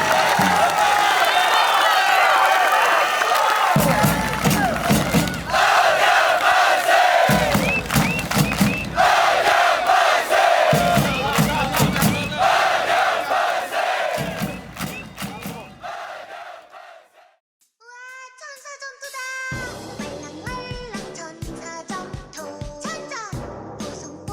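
A stadium crowd at a football match between FC Anyang and Cheonan roars and cheers in loud surging bursts with clapping, then drops to near silence before chanting and scattered shouts resume at lower volume.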